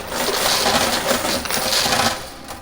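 Coins clatter and drop continuously in a high limit coin pusher machine, a loud, dense metallic jingling with repeated bursts of falling coins and no talk.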